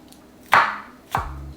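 A knife slicing thin cuts on a board for a French onion beef short rib soup: two separate crisp chops about half a second apart, close and clear, with no talking.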